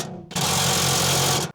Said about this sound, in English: I'm going to go ahead and tighten these 2 bolts down.